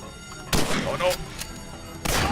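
Shotgun blasts in a war video game, two sharp booming shots about a second and a half apart with a rattle of action in between.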